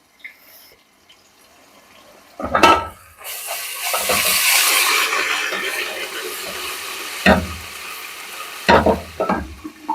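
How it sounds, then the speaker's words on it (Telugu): Ginger paste spluttering in hot oil for chicken biryani, a loud sizzling burst after a quiet start, with sharp stirring clatters and a lid partly covering the pan. "అల్లం పేస్ట్ వేసుకున్నాం. పైకి పైకి తులుతుందండి అంత నూనె అంతా"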